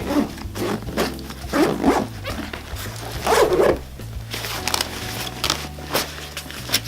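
Several zipper pulls on bag pockets rasp in short bursts, with scraping and handling noises over a low background hum; a dog barks faintly at times.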